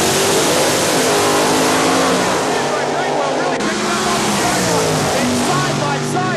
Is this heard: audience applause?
no